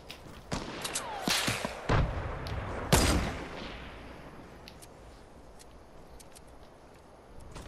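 Sniper rifle shots in Fortnite: a few sharp, booming gunshots in the first seconds, the last one loudest, then a fading rumbling tail and quiet game ambience.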